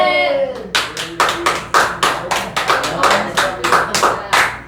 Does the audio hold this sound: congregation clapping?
yes